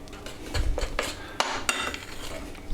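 A spoon scrapes and clinks against a bowl while biscuit filling with soft butter is mixed, quick irregular knocks and scraping at close range, no voices.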